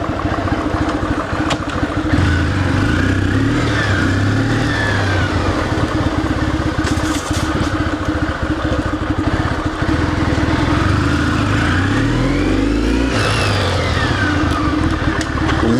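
A Kawasaki W650 motorcycle with 12,000 km on it runs loud and close, its engine note steady, then revving up and falling back several times with rising and falling pitch.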